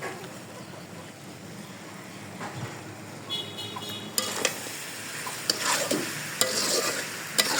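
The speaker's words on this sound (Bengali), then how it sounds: "চিনি দিয়ে ভালো করে নাড়াচাড়া করে নেব।" Sugar and spices stirred and fried in a pan while making a sweet-sour-spicy raw mango pickle, a steady close sizzle with scraping stir strokes and a few sharper clinks toward the end, no voices.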